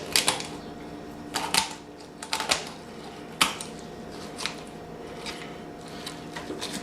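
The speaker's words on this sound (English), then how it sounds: "take a pair of kitchen scissors and run down the backbone" Sharp snipping crunches of kitchen scissors cutting down a chicken's backbone in irregular bursts, close by, with quieter pauses between the cuts.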